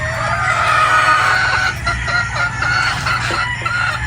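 Boston Black chickens in a pen give a busy, overlapping chorus of clucks and squawks, close and continuous over a low steady background hum.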